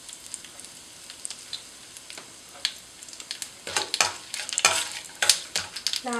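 Curry leaves and asafoetida frying in a pan for a Tamil chilli-tomato chutney, crackling quietly at first, then building into louder bursts of sizzle and popping with scraping stir strokes, no voices.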